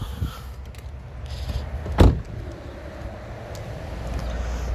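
A car is locked and closed: one sharp clunk stands out midway against a quiet, low background hum.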